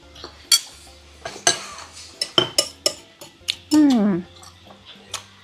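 Cutlery clinks and scrapes against a plate of fried rice with soupy side dishes in irregular taps while someone eats, with a brief voice partway through.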